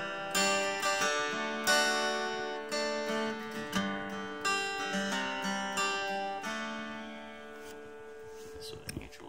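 Guitar strummed with a custom Grover Allman Delrin pick, bright chords rung out in a series of strokes, fairly quiet with some room noise and no talking.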